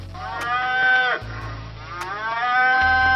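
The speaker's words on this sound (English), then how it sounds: "Cow." Cartoon-style cow sound effect: two long, loud mooing calls one after the other, clear and close with no talking.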